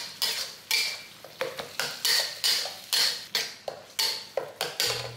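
A metal spatula scrapes and pushes curry paste around a pan for a Malaysian vegetable curry, giving about a dozen rhythmic, close scraping strokes with brief pauses between each.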